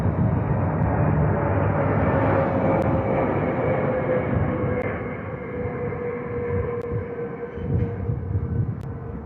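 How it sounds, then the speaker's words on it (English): An airplane roars overhead, a broad low rush that slowly fades as it moves away. "I guess a plane just flew by too."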